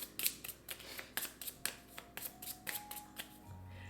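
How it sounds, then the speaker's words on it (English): Stacks of Ark Nova conservation cards being shuffled close up, a quiet, steady run of crisp riffling snaps repeating about every third of a second. "you have to shuffle like 3 chonky stacks of cards and then you put them all together"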